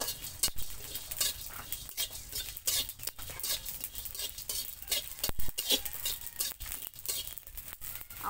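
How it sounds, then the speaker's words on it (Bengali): Cumin, coriander, cardamom, garam masala and peppercorns fry in a wok, with a soft crackling sizzle broken by repeated scraping and clinking of a metal spoon stirring against the pan. "এবার আমি কয়টা জিরে, কয়টা ধনিয়া, একটা এলাচ, একটা গরম মশলা, 2-4টে গোলমরিচ একসঙ্গে ভেজে নেব"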